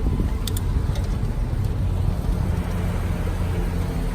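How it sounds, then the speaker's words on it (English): A 1959 Cadillac Series 62 convertible, an original survivor with a partly new exhaust, idles close by in a loud, steady, even low rumble. "Car starts right up, first pop, first turn of the key, then you listen to the motor."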